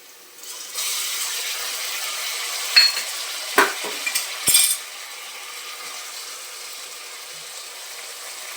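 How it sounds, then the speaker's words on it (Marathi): Ginger garlic paste and tomato fry in a hot pan with a steady soft sizzle, punctuated by a few clinks and scrapes of a spoon against the metal, then a quieter simmering hiss. "आता अद्रक लसूण पेस्ट आणि टोमॅटो टाकूया"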